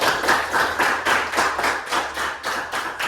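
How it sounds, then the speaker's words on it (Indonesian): Classroom applause for a student who has just recited the organs of the respiratory system, a steady wash of many small hands clapping in a quick, uneven rhythm, fairly close and loud with no talking over it. "tepuk tangan untuk temannya"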